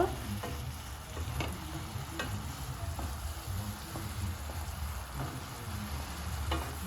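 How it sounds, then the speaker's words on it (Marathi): Onion-tomato paste for egg masala sautés and sizzles in a pan, with a steady soft frying hiss broken by scattered scrapes and clicks of a stirring spoon, fairly quiet and close, with no talking. "छान परतून घेणार आहोत आपण ही त्यातलं पाणी पूर्ण हे ड्राय हो-, होईपर्यंत"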